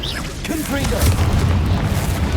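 A Confringo fire spell bursts with a deep boom in the Hogwarts Legacy game, a brief whooshing cast followed by a heavy rumbling explosion that rolls on loudly, with a voice calling out over it.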